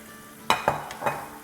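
Mushrooms frying in a pan are stirred three times, producing short scraping and sizzling bursts over a quiet, steady background without speech.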